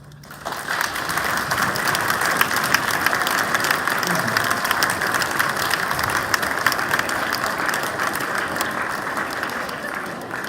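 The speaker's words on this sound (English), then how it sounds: "Students, give your parents a round of applause." Students clap for their parents at a school year-end awards event, a dense, loud and sustained round of applause from a large crowd lasting about ten seconds.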